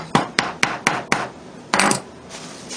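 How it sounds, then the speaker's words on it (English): Hammer tapping a wooden plug into a glued pocket hole in cabinet wood: five evenly spaced sharp taps, then a brief scraping rub and a softer tap, close and loud with no talking. "Then I insert the plug, give it a little bit of a tap"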